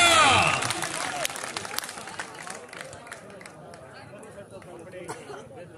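A crowd at a local match breaks into applause and cheering, loudest at first and then thinning into a steady patter of claps under chatter and shouting voices.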